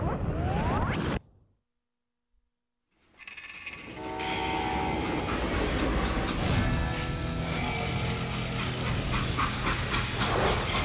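A train in the video game Call of Juarez: Gunslinger: a loud rumble is cut off by a brief silence, then a heavy, close rolling clatter of rail cars builds and holds, with horn-like tones sounding over it.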